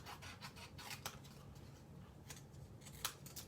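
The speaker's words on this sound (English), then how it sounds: "We can cut a smaller piece and cut all of these at once." Scissors cut through cardstock for a handmade birthday card, with a quiet run of scraping, rasping snips and a few sharper clips, faint and close.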